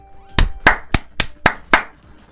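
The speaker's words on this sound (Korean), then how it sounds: "박수 치면서 끝내도록 하겠습니다" Six sharp, evenly spaced hand claps from a single person at close range, a short deliberate clapping sequence with no talk over it.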